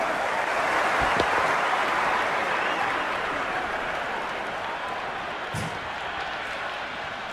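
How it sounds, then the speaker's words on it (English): Crowd cheering and applauding in the Cricket 26 video game after a batsman drives the ball through the covers for a four in an IPL match between Punjab and Gujarat, a steady broad roar that continues at an even level throughout. "The crowd love that one."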